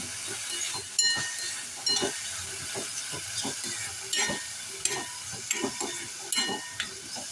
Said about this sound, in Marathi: बारीक चिरलेला टोमॅटो घालूया. तो सुद्धा परतून घेऊया.